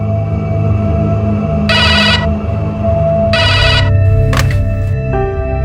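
An old-style telephone bell rings in two loud bursts over a low background hum and music, followed by a brief click.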